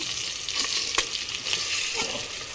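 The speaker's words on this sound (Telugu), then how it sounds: "బాగా చిత్త కొట్టద్దు, కొంచెం పెద్ద పెద్ద పీసెస్ లాగానే చిక్కేటట్టు కలపాలి" Egg is stirred and fried in a pan for pudina egg pulao, broken into large pieces, heard as a loud, close, continuous sizzle with a few sharp scraping strokes and no speech.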